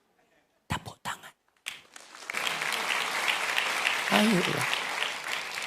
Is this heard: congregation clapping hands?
yes